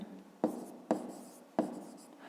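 Pen or chalk strokes on a surface while working out a fifth-grade math problem by hand: three distinct scratchy taps, each trailing into a brief scrawl, heard close and quiet.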